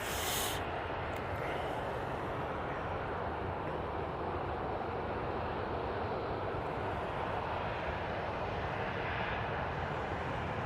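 A jet airliner rolls down the runway at Manchester Airport, slowing and braking after landing. A steady, loud broadband roar of engines and rushing air runs through the whole stretch without a break, with no voices.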